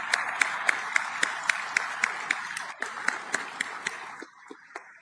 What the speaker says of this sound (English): A round of applause for Nebraska.